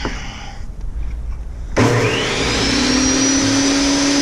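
Table saw starting up to cut wood for a beehive honey super, a sudden loud motor surge rising into a steady high whine after quieter handling noise.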